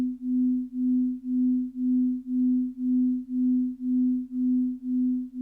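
A steady pure tone swelling and fading in regular pulses, about ten even beats in five and a half seconds, from two close component frequencies interfering, the kind of beat heard in a car, truck or SUV at idle.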